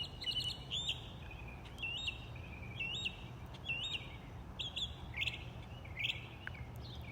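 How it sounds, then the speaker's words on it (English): Birds chirp outdoors in North Naples, Florida, with repeated high, quick tweets from nearby birds over a soft, steady background hum on a warm morning. "Beautiful out here, listening to the birds."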